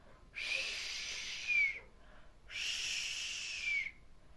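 Voice imitating a balloon deflating during a children's vocal exercise: two long, hissing whistly exhalations, each about a second and a half, ending in a brief squeaky rise, close and clear with silence between.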